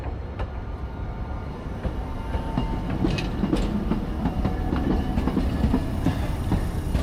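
A tram rumbles past at close range near Otsuka Station in Tokyo, wheels clacking rhythmically over the rails with a steady low roar and faint metallic squeaks.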